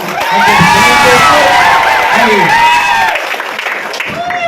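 A crowd at a Janasena Party political rally in Andhra Pradesh claps, cheers and shouts loudly and close by. Whoops and raised voices ride over dense applause before it eases slightly toward the end.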